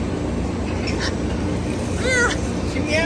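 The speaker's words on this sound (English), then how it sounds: "She meowed at me." A cat meows at close range, a few short bending cries near the end rising over a steady background hum and murmur of voices.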